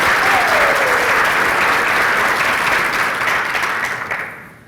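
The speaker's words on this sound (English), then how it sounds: "Let's give Zach a round of applause." Audience applause at a talk on employee engagement, loud, dense and steady for about four seconds before fading out at the end, with no speech over it.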